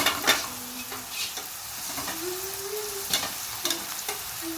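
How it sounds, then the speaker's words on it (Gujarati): Spinach and masala sautéing in a pan, a continuous sizzle broken by repeated spatula scrapes and taps, close up with no speech. "પાલક પણ આપણે સરસ સોતે કરીએ"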